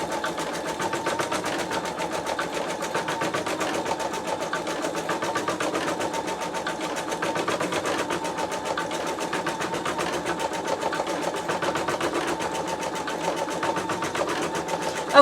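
A Sew Tech PA116M 260x200mm magnetic hoop holds the fabric while an embroidery machine stitches in a fast, even mechanical whir. The rapid needle rhythm runs unchanged and close throughout, with no talking.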